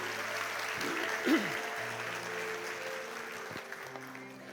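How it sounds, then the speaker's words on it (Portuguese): Congregation applauding at a church service, a steady wash of clapping hands that holds for several seconds, with sustained musical tones underneath. "Pode dar um aplauso para Jesus, glorificando a Ele."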